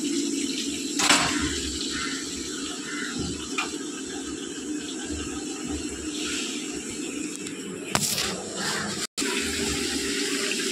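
Marinated mutton is tipped into a cooking pot with a rushing, watery splash and sizzle that surges and subsides over about ten seconds, with a sharp clatter near the end.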